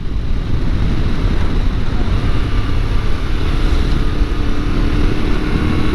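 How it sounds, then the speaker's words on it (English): A strong gust of wind buffets a 2022 Yamaha Tenere 700 motorcycle while riding, as loud, continuous low roaring rumble of wind noise over the microphone, without a break. "This got hit by a real strong blast of wind."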